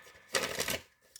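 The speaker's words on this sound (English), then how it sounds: "I am going to shuffle" Tarot cards being shuffled in a quiet room, a single dense riffling burst of about half a second, then a faint tap near the end.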